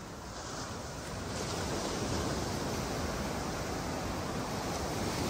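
Ocean surf at Boa Viagem beach in Recife gives a steady, dense rushing roar that swells slightly, with no voices over it.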